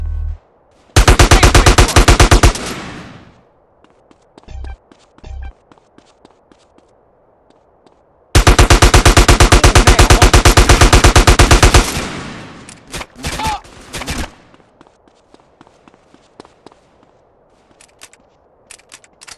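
Gunfire in GTA San Andreas Definitive Edition, two long loud bursts of rapid automatic shots, each several seconds long, separated by scattered single shots and footsteps, ending in sparse distant pops.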